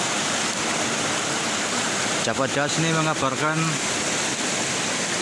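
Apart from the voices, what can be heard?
flooding Pemali river rushing water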